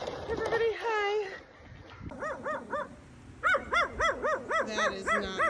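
A dog barks on a farm during a freezing winter storm: a person speaks briefly first, then a run of sharp, evenly spaced barks follows, close and loud, repeating in a steady rhythm.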